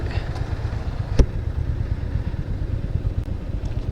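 A Royal Enfield Hunter motorcycle engine runs steadily with a low, continuous rumble and one sharp click, recorded close up while riding on the road to Yercaud.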